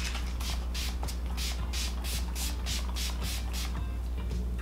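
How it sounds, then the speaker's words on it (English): A makeup setting spray pump fires about a dozen quick, even bursts in a row, each a short close hiss, over a steady low background hum. "I'm gonna use my setting spray."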